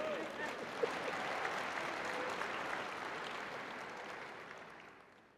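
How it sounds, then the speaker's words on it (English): A ceremony audience at a fall commencement breaks into warm applause, a dense, even patter of many hands that holds steady and then gradually fades away. "Oh yeah, we can applaud the creamery."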